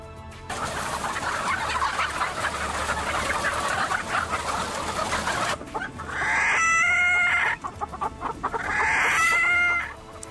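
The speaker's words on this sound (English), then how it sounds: "Billions of chickens are kept in cages, tiny, cramped cages with no room to spread their wings at all." Dense clucking and squawking from many caged chickens fills the air, with a couple of loud rooster crows rising over the noisy flock.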